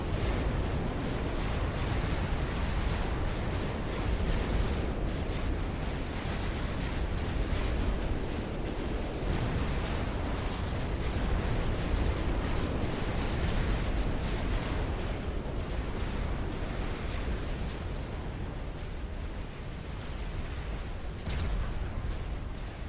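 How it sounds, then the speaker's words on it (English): Naval battle in Supreme Commander: Forged Alliance, with lines of battleships trading fire in a 4v4 match; a dense, continuous rumble of booms and blasts, loud and steady throughout with no talk. "There's something calming about just seeing battleship lines fire at each other."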